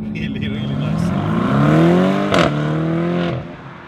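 BMW M850i engine revving in its hardest Sport Individual setting: a loud, close roar climbs steadily in pitch, gives a sharp crack near its peak, holds briefly, then drops away.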